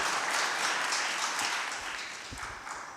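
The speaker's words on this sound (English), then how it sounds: "How about a little applause for Tony and I?" Audience applause at a Glen Cove mayoral debate: a steady wash of clapping from a crowd that holds for about three seconds, then eases slightly toward the end.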